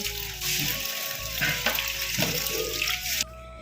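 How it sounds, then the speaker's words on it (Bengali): Running tap water splashes steadily over freshly cut cauliflower, long beans and pointed gourd in a sink, a continuous close rush that cuts off abruptly near the end. "এটা এখন আমি পরিষ্কার করে জলে ধুয়ে নেব।"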